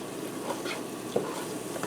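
Flour stirred into sautéed butter, onions and garlic to make a roux in a pressure cooker, giving a soft continuous sizzle with light scraping stirs, close and steady, no talk.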